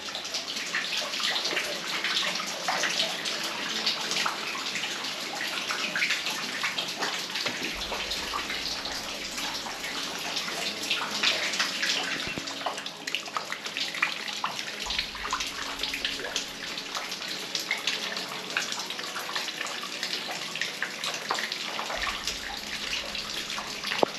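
Steady rushing water from a waterfall in a very flooded coal mine passage after heavy rain, a continuous broadband roar with splashing and dripping detail, echoing and unbroken throughout.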